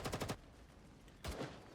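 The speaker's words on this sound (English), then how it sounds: "The incessant gunfire from beyond the fortress is generating thick, choking smoke." Gunfire in a Girls' Frontline 2 video game cutscene outside a fortress: a quick burst of rapid automatic shots, a pause, then a second burst, fairly faint and distant with no voices.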